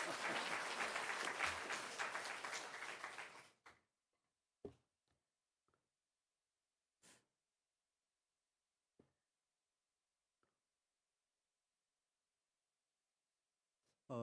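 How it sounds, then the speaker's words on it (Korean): A church congregation applauds loudly for about three and a half seconds, then the clapping cuts off, leaving near silence broken by a few isolated faint knocks and taps. "이렇게 박수를 쳐주는 교회는 제가 아마 처음인 것 같습니다"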